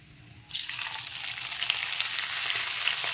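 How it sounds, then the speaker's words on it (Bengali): Ginger paste and green chillies stir-fried for a vegetarian aloo dum, a strong broad sizzle bursting in after half a second and holding steady and close to the end. "আদা আর কাঁচা লঙ্কাটা একটু ভালো করে নেড়েচেড়ে কষিয়ে নিয়েছি"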